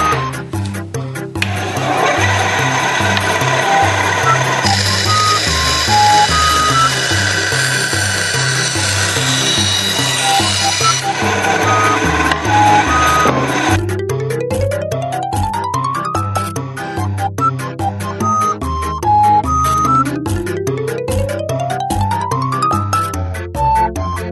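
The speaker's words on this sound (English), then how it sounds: "So I'll just do a rough cut on my bandsaw." A bandsaw rough-cuts wood for a trophy, the loud motor whine running steadily with the blade chattering and rasping through the stock, and rising pitch sweeps appearing in the later passes, with no talking.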